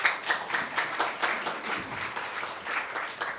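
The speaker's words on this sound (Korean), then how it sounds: "주제 발표를 해주신 김원수 대사께 다시 한번 박수 부탁드립니다" An audience at a security forum applauds the ambassador who gave the keynote talk, a dense, even wash of clapping across a large hall that holds steady throughout.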